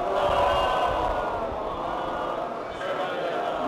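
A mosque congregation at a majlis recites salawat together, a steady, dense swell of many voices chanting in unison, loud and sustained throughout.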